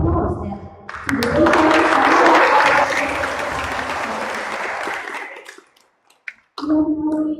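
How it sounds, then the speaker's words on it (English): Audience applause at the close of a graduate student conference: sustained clapping for about five seconds, fading to near silence before a voice resumes speaking. "Let's show our appreciation with round of applause"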